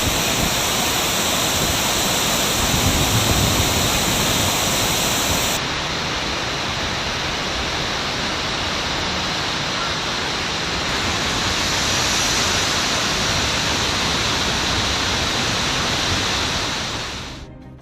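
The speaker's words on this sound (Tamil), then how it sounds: "தொடர் மழை காரணமாக குற்றாலம் மெயினருவி, ஐந்தருவி, பழைய குற்றாலம் அருவிகளில் 6வது நாளாக வெள்ளப்பெருக்கு குறையவில்லை" Flooded Courtallam waterfalls after days of continuous rain roar in a dense, unbroken wall of crashing water, loud and close throughout, with no voices.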